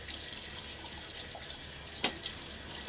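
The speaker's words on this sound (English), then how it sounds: "So let me get some water on my face." Tap water runs steadily into a sink at close range, with a brief splash as water is cupped onto the face before a shave with a Gillette Black Beauty safety razor.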